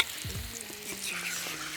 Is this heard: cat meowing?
no